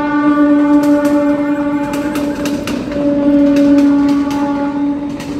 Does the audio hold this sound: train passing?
yes